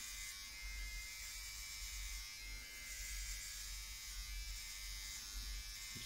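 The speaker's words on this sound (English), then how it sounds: "start shaving, start cutting the hair." Electric shaver buzzing steadily through hair during scalp micropigmentation maintenance, a constant close-up drone with no talk.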